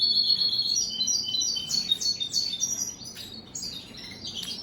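Baby goldfinches chirping close by, high, thin repeated calls and twitters in quick overlapping runs that thin out briefly near the end, with no talk.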